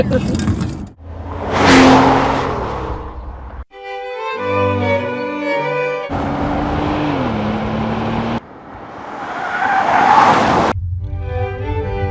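A Bentley drives in loud, full bursts broken by sudden cuts, its engine rumbling and rising in pitch, with someone talking over parts of it.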